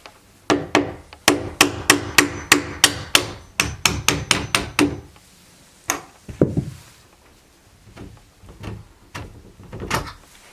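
A hammer taps a small steel punch to drive out a door hinge pin, starting with a steady run of about fifteen sharp, evenly spaced metallic strikes, then a few slower, scattered knocks and clunks as the pin loosens.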